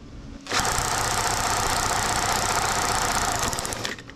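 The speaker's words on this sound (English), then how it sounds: "I'm running the Magneto at about 1200 RPM, so let's see if it'll jump the gap." A FlaK halftrack magneto spins at about 1200 RPM, throwing sparks across a 7 mm gap; after a quiet start it kicks into a steady, dense buzzing crackle that holds for about three seconds before cutting off.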